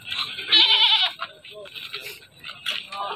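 A sacrificial goat bleats at a livestock market, several loud, close, wavering cries in short succession amid light background chatter.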